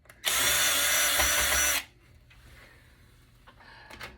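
A cordless drill with a dying battery whirs loudly for about a second and a half, then cuts out abruptly, leaving faint clicks and handling noise afterward.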